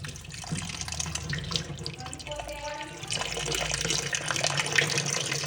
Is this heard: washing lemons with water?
yes